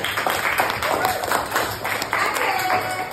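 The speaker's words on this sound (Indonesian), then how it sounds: "Tepuk tangan dulu buat dia." Students in a classroom clap for a classmate, a dense burst of many hands applauding at close range with chatter mixed in.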